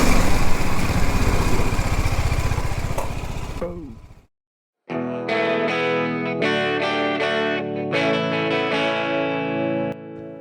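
A motorcycle loaded with luggage heads off toward the desert sand dunes near Jaisalmer, Rajasthan, its engine droning loudly before a brief silence, then a steady rumble returns under overlaid music-like tones.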